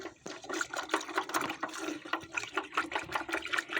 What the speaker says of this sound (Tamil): நல்லா ஒரு குச்சி வச்சு நல்லா மிக்ஸ் பண்ணி விட்டுருங்க.